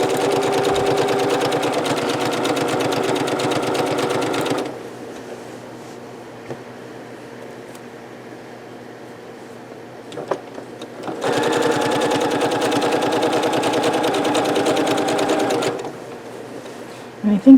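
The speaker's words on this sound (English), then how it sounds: "Okay, so we're going to sew that edge down." A sewing machine stitches down the edge of a Christmas winter minky crazy quilt, running in two long steady bursts of fast mechanical whirring with a quieter pause between them.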